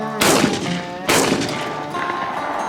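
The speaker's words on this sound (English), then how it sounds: "nighttime clay shooting. That's a new sport." Two loud, sharp rifle shots from a .22 fired at clays at night, about a second apart, each with a ringing decay into a quiet outdoor background.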